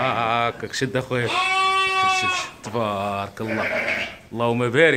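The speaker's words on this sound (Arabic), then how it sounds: "امهم هذه اللي كتغوت؟ اه هي اللي كتغوت، ها هي كتغوت امهم" A ewe with newborn lambs bleats loudly and close by in a Moroccan sheep pen in the Settat region, her wavering cries alternating with someone talking over them.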